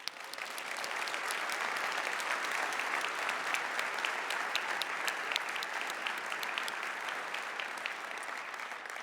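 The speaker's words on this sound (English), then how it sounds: "Please give yourselves a huge round of applause." A keynote audience at the Guidewire Connections conference bursts into sustained applause, a dense, loud wash of many hands clapping that stays steady for the whole stretch without voices.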